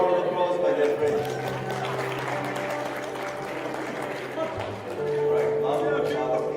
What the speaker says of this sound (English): Please give him a round of applause, my dear friends.